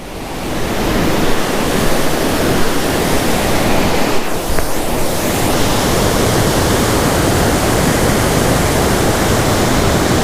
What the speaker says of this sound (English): this river in the state it's in right now, see if I can get you a little closer